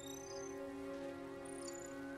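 Dense crickets chirp continuously at night in the Ghost of Tsushima video game, a steady, even insect drone with a few higher trills over quiet ambience.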